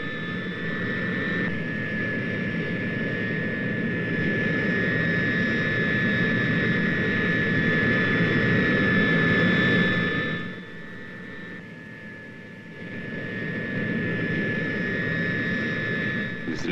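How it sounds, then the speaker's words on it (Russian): Turboprop engines of the Tu-95 carrier aircraft drone steadily at close range, a loud sustained roar with a high whine, dipping briefly before building again. "Заработали турбовинтовые двигатели."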